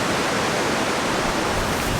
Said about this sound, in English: As you walk around a lot of the waterfalls and stuff, all the sound is really intense